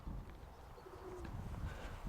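Pigeons coo softly amid low, rumbling outdoor background noise, a short murmuring call rising briefly through the din.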